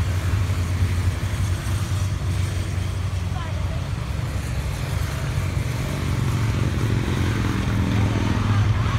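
A steady, loud motor roar rumbles throughout from a motorcycle parade passing close by, with voices faintly mixed in.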